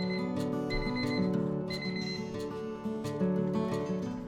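A kitchen oven timer going off at the end of roasting traditional roast potatoes: a moderately loud, repeating melodic ringing with sharp onsets, heard alone without talk.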